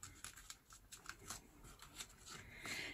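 Newspaper pages are folded and creased by hand for a book cover, giving faint, close rustles and papery crinkles in quick irregular bursts with no talking.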